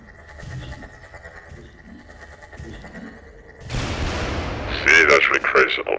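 An explosion in Garry's Mod with the Half-Life: Resurgence addon, set off by an energy ball weapon, bursts out as a loud broadband blast about halfway through, followed by crackling, fiery bursts, after a stretch of quieter game ambience.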